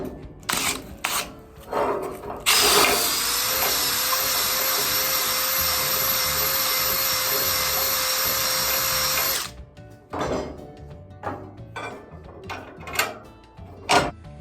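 A power drill spins a sandpaper-wrapped old bolt to clean out holes during leaf spring work, a loud, close, steady high whine lasting about seven seconds, framed by scattered knocks and handling clatter before and after.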